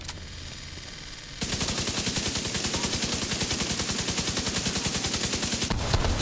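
Sustained automatic pulse rifle fire in The Division 2, a rapid, even stream of loud close shots that starts abruptly after a quieter stretch and runs without a break to the end.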